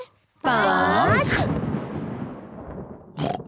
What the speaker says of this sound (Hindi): तूफान दूर जा रहा है।